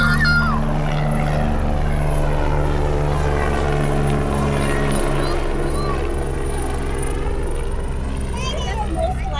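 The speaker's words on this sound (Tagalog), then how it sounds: "Helicopter na!" A helicopter flies overhead with a loud, steady rotor and engine drone whose pitch slowly sweeps as it passes near.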